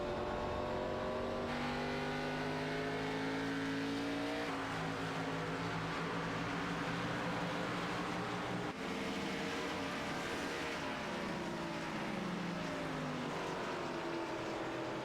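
Race cars circling a New Hampshire oval in a racing video game during an e-sport series, a dense roar of several engines with rising and falling pitch sweeps as cars pass, steady and loud throughout with no talk.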